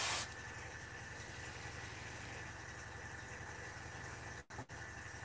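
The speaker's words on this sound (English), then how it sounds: "the capacity of the compressor that I'm using, it's not really made to do long sprays like this" An air compressor running during spray painting, a steady low mechanical hum with a pulsing throb and faint hiss, cutting out briefly near the end.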